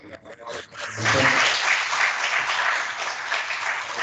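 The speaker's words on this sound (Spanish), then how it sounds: "Muy amable, Israeli, agradecemos su participación y un aplauso." Applause from an audience at a university research forum, steady and fairly loud for several seconds, starting after a brief moment of talk.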